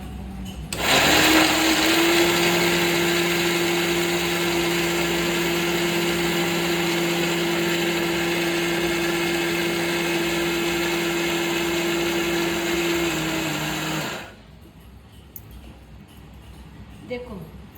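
A mixer grinder whirs steadily at full speed for about thirteen seconds, finely grinding ingredients for modak, then cuts off abruptly into near silence with faint background sounds.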